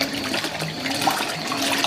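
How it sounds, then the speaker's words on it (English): Water swirls and churns inside the drum of a Fisher & Paykel Smart Drive GW712 washing machine, draining toward the center. It is a loud, continuous close-up gurgling wash with no talk. "how all the water is moving into the center"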